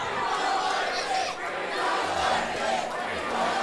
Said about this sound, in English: And the crowd are calling for it.